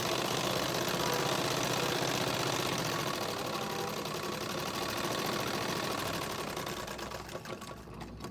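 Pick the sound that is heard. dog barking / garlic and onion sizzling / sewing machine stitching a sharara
sewing machine stitching a sharara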